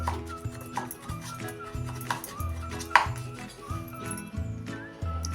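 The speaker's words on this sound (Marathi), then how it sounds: "हे चमच्यानं आता एकसारखा हलवून हा गोळ मी विरघळून घेते" A spoon stirs jaggery into warm milk in a small vessel, with repeated rhythmic clinks and scrapes against the metal sides, close and fairly quiet, plus a faint voice in the background.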